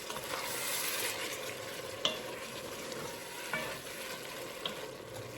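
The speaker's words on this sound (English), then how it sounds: "we want this to sit and simmer" Sauce of Rotel tomatoes with their juice and a heaping tablespoon of Worcestershire bubbling in a pan, a steady close sizzle with a few soft clinks of stirring.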